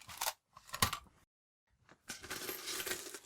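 Coins rattle and clink inside a can, with a few sharp metallic jingles, a brief silence, then a longer shaking rattle, close and fairly quiet.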